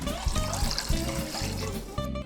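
Water poured into a pan of meat with tomato sauce, a steady close gurgling stream that runs for a couple of seconds with soft splashes and a few bumps of the pan.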